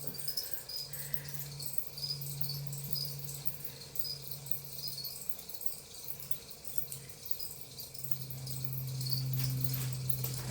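Crickets chirp steadily in a quiet outdoor night, a faint high-pitched trill repeating under a low background hum.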